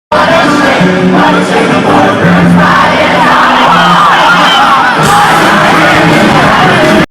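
At a concert on a summer tour, a large crowd roars and yells, a loud continuous wall of cheering with shouted voices and a tonal music undertone beneath.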